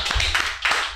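A short burst of clapping for a guest joining a podcast, a few hands patting in uneven bursts, close and fairly loud, with no talking over it.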